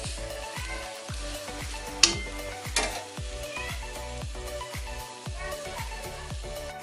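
A sugar paratha fries in a pan with a constant sizzle, broken by regular scraping strokes and a couple of sharp louder hits as it is turned, close and clear with no talking.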